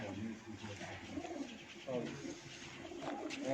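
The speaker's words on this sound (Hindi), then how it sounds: "हाँ तो तुसें जनाब गुलाम रब्बानी साहब ने जनाब ब्रीडर कबूतरां दा शौक कराने हैं।" Breeder pigeons coo on a rooftop in a low, repeated rolling murmur, several birds overlapping, with someone talking throughout over them.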